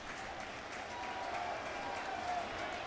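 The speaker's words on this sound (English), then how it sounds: "And you hear this crowd, some of them on their feet for Beltran." Baseball stadium crowd at a Cardinals at Mets game applauding for Beltran, a steady wash of clapping and cheering from a large distant crowd that swells slightly and holds throughout, with faint voices mixed in.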